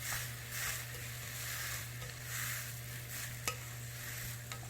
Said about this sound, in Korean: 준비해둔 고추기름. 고추기름 2큰술. 기름까지 포함하면 한 4큰술 정도 될 겁니다. 자, 넣고 볶아주세요.